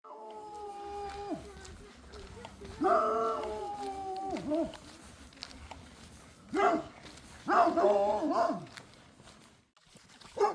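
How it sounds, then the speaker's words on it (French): A dog barks and whines outdoors in the French countryside, a few close, loud yelps and whimpers in bursts with pauses, while a person speaks nearby. "Et il y a encore un chien là-bas."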